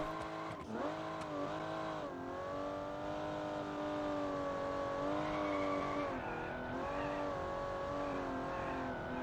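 A car with a CVT in the BeamNG racing game runs at full throttle, its engine note held high and steady. Brief dips and surges suggest feathered throttle, with faint tire squeal near the start.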